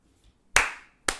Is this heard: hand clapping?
yes